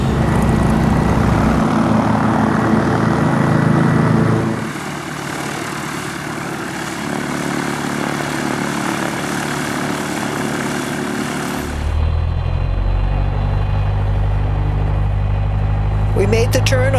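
Small propeller airplane engine running steadily and loud close by, a constant droning roar with a brief lull before settling into a deeper idle rumble toward the end.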